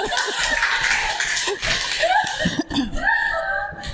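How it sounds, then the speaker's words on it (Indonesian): Audience at a museum literacy event claps briefly under scattered laughter and chuckles, with some voices mixed in; fairly close and lively. "Oke, tepuk tangan."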